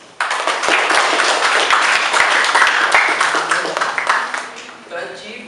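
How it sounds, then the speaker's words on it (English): An audience at a presentation on ASEAN economies claps warmly for Indonesia, a loud, close burst of many hands with sharp individual claps standing out, rising quickly and fading after several seconds. "give Indonesia a round warm of applause"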